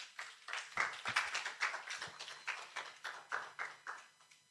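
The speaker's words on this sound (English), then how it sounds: "Please, a round of applause for SIG." A small group clapping at a photography club conference, faint and uneven, in a quiet room with rhythmic bursts of claps that trail off toward the end.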